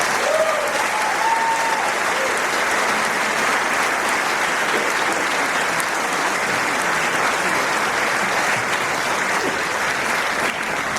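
Sustained, full applause from a concert audience greets the vocal soloists, a thick, even roar of clapping with a faint whistle early on and no break.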